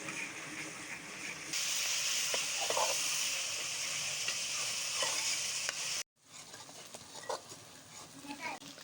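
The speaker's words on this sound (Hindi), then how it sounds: "प्याज को ब्राउन करेंगे अच्छी तरह से।" Onion paste frying until brown in a pan for spicy potato katli, a steady close sizzle with intermittent spoon scrapes and stirring, a brief cut of silence, then softer frying and clinks.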